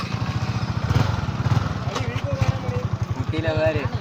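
A Hero Xpulse motorcycle labouring off-road, its engine thumping in rapid even pulses up close while people talk over it.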